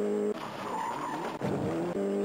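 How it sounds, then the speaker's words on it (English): A racing car skids across gravel in a Jaleco or Gaelco arcade racing game on the Evercade, its engine roaring steadily with a sustained gritty skid that breaks off briefly twice. "It's got some great car noises as well. Especially when you go over the gravel skid."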